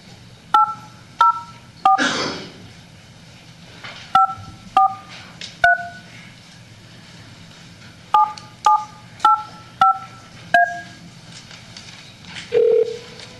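Telephone keypad tones beep in short bursts of single presses and quick runs across about a dozen digits, crisp and close in a quiet room, with a brief rustle early on and no talking.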